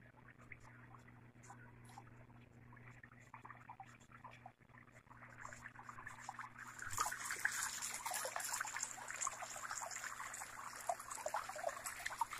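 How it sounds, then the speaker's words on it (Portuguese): Water trickles and splashes steadily from a fish pond filter and small cascades at a newly filled tank, growing louder and denser partway through over a low constant hum. "o filtro aqui, tá filtrando a água."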